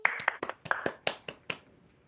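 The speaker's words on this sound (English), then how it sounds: "Give Katie McLaughlin a round of applause." A small online audience claps for Katie McLaughlin, about eight sharp, separate hand claps in a loose, uneven rhythm, close and fairly quiet, fading toward the end.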